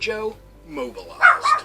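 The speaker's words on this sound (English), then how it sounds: "Please excuse the barking in the background." Dogs barking indoors during a thunderstorm, a couple of short yips and barks mixed with someone talking over them.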